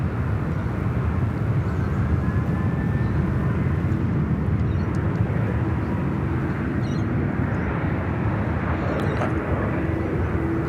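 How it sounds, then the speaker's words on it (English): A jet airliner departing the runway at Sydney Airport roars steadily throughout, a loud continuous engine rumble heard from an outdoor spotting spot, with no talk over it. "Our first departure here off runway right this morning."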